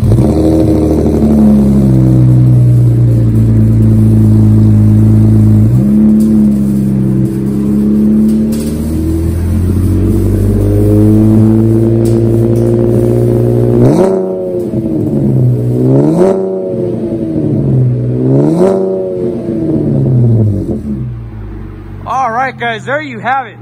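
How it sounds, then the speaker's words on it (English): A 2017 Chevrolet Camaro V6 with a MagnaFlow two-in, two-out dual exhaust idles with a deep, steady drone, then gets several quick throttle blips that rise and fall. A voice talks over the exhaust in places. "Not the loudest car in the world, but a really nice deep tone."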